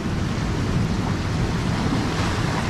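Surf breaking at secluded Kalimirah beach in Wonogiri, a loud, steady, dense wash of waves close by, with wind buffeting the microphone and no voices.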